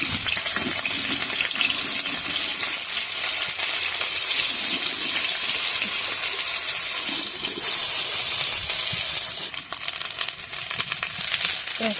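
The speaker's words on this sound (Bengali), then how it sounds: "কুচনো পেঁয়াজ দিয়ে দিলাম" Chopped onions hiss and sizzle steadily in hot oil in a pan, a loud continuous frying noise throughout with no talking.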